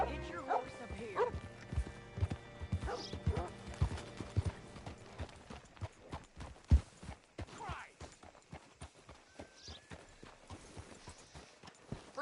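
Horse hooves clip-clopping at a ranch in the video game Red Dead Redemption 2; irregular close hoofbeats on hard ground with a dog barking, plus a soft whinny and game dialogue partly overlapping.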